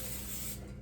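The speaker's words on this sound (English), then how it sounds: "we coat it with nonstick spray just to make sure we're not making a huge mess here" A steady hiss of nonstick cooking spray being sprayed onto a 9.5 by 11 baking pan, continuous and fairly quiet, tapering off near the end.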